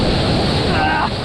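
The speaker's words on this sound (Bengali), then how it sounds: "ওই যে দূরে দেখা যাচ্ছে আমাদের সুমন ভাই, একদম একদম ঢেউর মধ্যে চলে গেছে।" Sea waves surge on the beach at Maheshkhali near Cox's Bazar as a loud, broad, steady roar mixed with wind buffeting the microphone, and a faint voice sits underneath.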